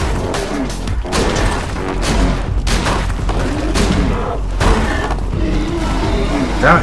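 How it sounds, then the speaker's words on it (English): Gunfire and explosions in the video game Borderlands 2 come in rapid, loud bursts of shots and booms during combat, with a voice speaking over the chaotic battle. "You have to weaken them with gunfire and then melee"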